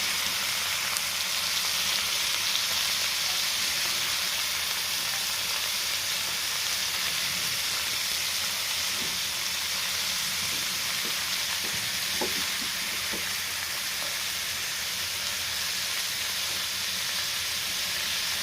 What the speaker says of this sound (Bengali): এখন বাঁধাকপি কুচি দিয়ে দেবো।